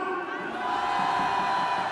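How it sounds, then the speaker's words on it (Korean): A large rally crowd in Korea roars and cheers together in a sustained, far-spread shout, loud and continuous with scattered whoops and no single voice standing out. "모두 함성 5초 시작"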